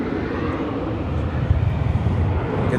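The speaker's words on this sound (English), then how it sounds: "American Flight 2061 coming in from" An American Airlines jet arriving from Cedar Rapids, Iowa, at Dallas Fort Worth airport makes a steady, broad, distant engine roar that holds level throughout.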